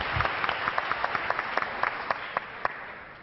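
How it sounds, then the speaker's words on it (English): An audience at a startup pitch competition applauds after a presentation, a moderate crowd of overlapping claps with a few sharp, distinct hand claps standing out near the front. "round of applause for Weotta"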